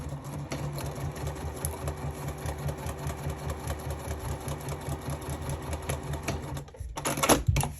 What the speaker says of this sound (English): I'm going to sew along both long edges.